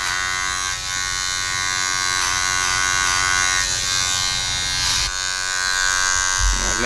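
Electric hair clippers cutting a taper fade, a steady close buzz that dips and shifts as the blade moves against the grain, with a brief bump near the end.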